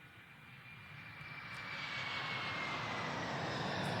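Steady airplane engine drone inside the cabin of an airliner, a continuous broadband roar that swells slightly louder over a few seconds, with no voices.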